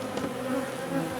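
Honey bees hum around an open hive during an inspection, a close, continuous tonal buzz that wavers slightly in pitch, with no talking.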